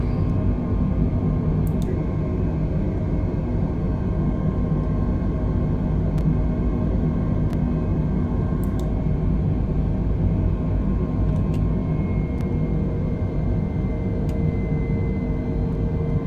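Airbus A320 engines at climb thrust in Microsoft Flight Simulator, departing New York JFK for Bermuda: a steady, heavy, unbroken drone with low rumble and a faint high whine, and no voices.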